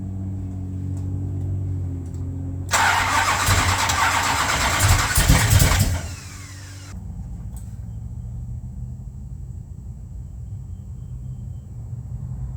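A Roadrunner car's engine idles roughly, then roars loudly for a few seconds as the throttle is opened before dropping back to an uneven, lumpy idle, with no talking.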